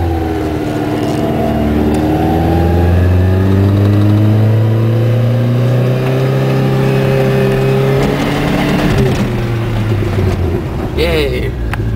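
A manual-shift Dodge Ram 50 (Mitsubishi Mighty Max) pickup pulls away as its engine revs up and accelerates, the rising growl loud and close, with a person talking over it.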